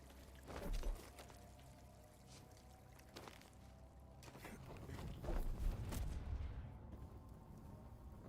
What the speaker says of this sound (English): This turns off the water coming in the front, up there.